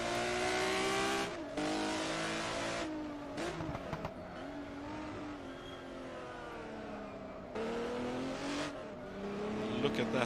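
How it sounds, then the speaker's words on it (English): A 1980 Procar series race car at the Nuremberg 200-mile race is heard from onboard, its engine loud and close, revving hard through repeated upshifts and downshifts with brief lifts between accelerations. "Let's jump on board Centorame's car."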